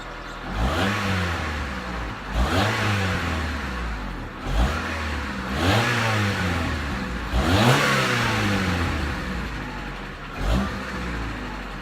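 A Honda Accord CB7 fitted with a dual-tip muffler revs hard about five or six times in a row, each throttle blip rising and falling close by, with no talking.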